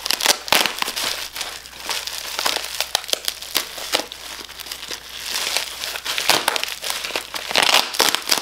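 Tape torn and pulled off a makeup package, loud close crinkling and crackling with sharp ripping bursts that continue without pause for several seconds, no voices.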